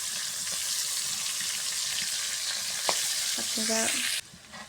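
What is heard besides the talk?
chopped onion frying in oil after frying fish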